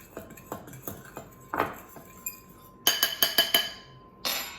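A fork clinks repeatedly against a bowl while mixing apple cake batter, sharp close taps coming in uneven bursts.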